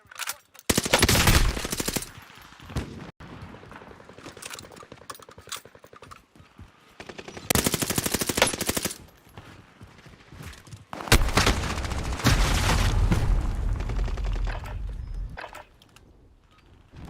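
Loud bursts of rapid automatic gunfire from a gun in Warzone, three main volleys with scattered single shots and quieter stretches between them.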